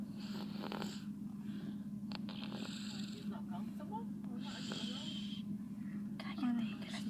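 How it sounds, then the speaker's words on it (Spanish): Someone asleep snores in a slow, regular rhythm, close by, while other people whisper and murmur over the breathing. "Cállate, que la estoy grabando sus ronquidos."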